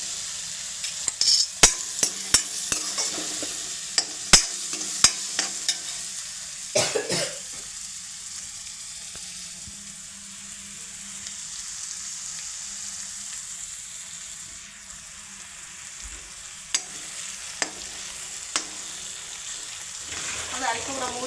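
Chopped tomatoes frying in a pan while being stirred, a soft steady sizzle under repeated scraping clicks of a spoon against the pan, with a couple of coughs and throat clearing nearby.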